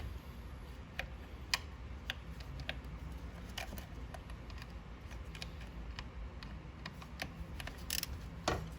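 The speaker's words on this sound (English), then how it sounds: "just breaking the torque and then threading it out" A screw is loosened and threaded out near the PCV valve on a 3.6L Pentastar V6 engine, giving faint, scattered ratchet-like ticks and clicks over a low background hum, with no talking.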